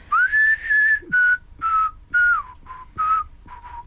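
Melodic whistling of a song's tune, a phrase of about seven clear whistled notes in a steady, bouncy rhythm, close and fairly loud with no talking.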